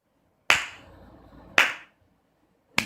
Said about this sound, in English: you gotta clap